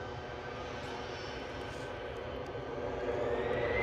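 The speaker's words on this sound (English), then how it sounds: "EasyJet's on the roll" An EasyJet airliner begins its takeoff roll at Edinburgh Airport, a broad, steady jet engine roar heard from a distance that swells gradually louder toward the end.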